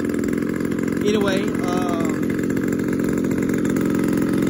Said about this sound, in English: I am breaking it in right now because this engine is new.